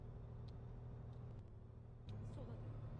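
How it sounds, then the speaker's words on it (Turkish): A heavy truck engine in the game Cargo Simulator 2021 rumbles low and steady throughout, with a few faint clicks and a slight surge in the engine note near the end. "Motorun sesi gürül gürül abi değiştirmiştik."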